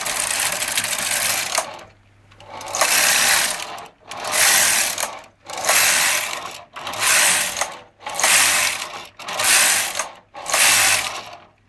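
A knitting machine carriage is pushed back and forth in steady passes across alternate needles in work, each pass a loud, clattering ratchet-like rasp separated by brief pauses, about seven strokes with no talk.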